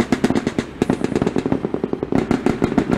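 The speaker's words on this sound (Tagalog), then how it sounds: "Magkakasunod na putok naman mula sa tropa ng pamahalaan ang kanilang ibinigay sa mga kunwaring kaaway mula sa dagat." Rapid successive gunfire from rifles and a grenade launcher during a Philippine government troops' military exercise against mock enemies from the sea, loud sharp reports in a dense irregular string with no talking.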